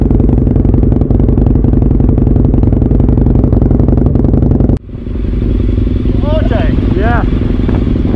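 A motorcycle engine idles loudly and close with a dense steady rumble, then cuts off abruptly partway through, leaving quieter outdoor background with faint chirping sounds.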